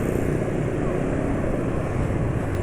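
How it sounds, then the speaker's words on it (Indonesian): An engine running on old-formula Union 76 20W50 oil hums steadily and close, a continuous low mechanical drone with no talk over it. "suara mesin masih tetap halus gitu"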